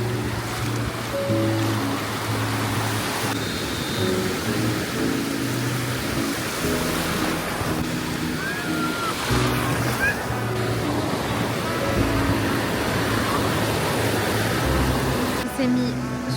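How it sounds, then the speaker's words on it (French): Sea waves surging and breaking on an Italian beach, a steady broad wash of surf that stays loud and close throughout, with a low hum and faint background voices mixed in. "Il y a grave des vagues"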